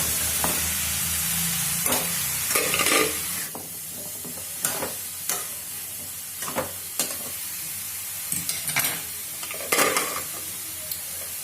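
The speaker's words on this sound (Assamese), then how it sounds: "সজনা আলুখিনি ভাজিয়ে নেব।" Drumstick pieces and potatoes frying with turmeric and chili powder in a pan, a steady sizzle broken by intermittent scraping stirs, close and clear with no talking.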